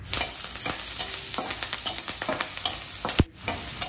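Curry leaves dropped into hot oil with ginger and garlic for a batata vada tempering, giving a steady close sizzle with scattered crackles and stirring scrapes, then one sharp pop near the end.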